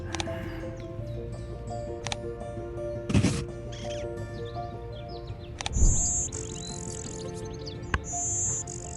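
Bird calls from the board game Wingspan's digital version, a warbler's song: short high chirps and trills recurring over a steady background of game music and ambient tones, with a couple of louder thumps.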